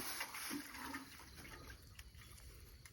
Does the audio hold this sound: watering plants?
yes